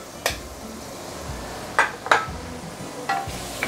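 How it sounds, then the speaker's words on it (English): Ginger and garlic sauté in sesame and vegetable oil for sesame oil chicken, with a soft low sizzle under a handful of sharp metallic clinks and scrapes of a utensil against the pan, spaced irregularly. "next thing is to saute the ginger and the garlic"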